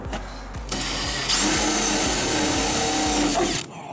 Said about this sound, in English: I'm just gonna buzz in a hole there, flush mount it